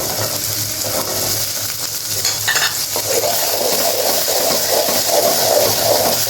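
Small potatoes frying in hot oil in a pan for a pumpkin and dried shrimp dish, with a steady close sizzle and scraping stirs and clinks of a spatula against the pan, no talking.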